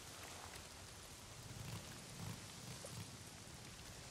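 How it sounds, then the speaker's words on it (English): Steady rain in the Days Gone video game, a continuous soft hiss of falling drops at low volume with a few faint low rumbles underneath, no voices. "I hate fucking rain"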